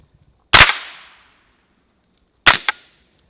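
Two sharp gunshots with a supersonic crack, fired from a gun into a bank outdoors, loud and close, the first ringing out with a long decaying tail and the second followed by a quick echo.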